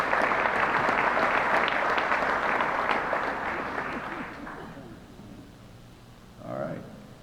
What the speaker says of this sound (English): Let's give them a round of applause for that, huh?